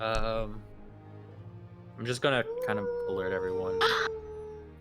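A dog howls and yips indoors, with drawn-out wavering cries running under and between a person's speech.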